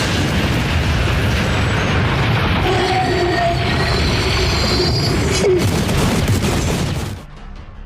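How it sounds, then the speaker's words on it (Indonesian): A thunder spear blast in the Attack on Titan anime gives a loud, sustained roaring explosion with rumbling debris that tapers off, then cuts abruptly to near silence. "Ledakan dari tombak petir no Bakudan berhasil membuat kepala Rainer hancur"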